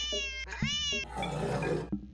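A cat meows loudly and close, drawn-out harmonic cries repeated twice, then a busier stretch of mixed cat vocal noise and scuffling before a final short sound.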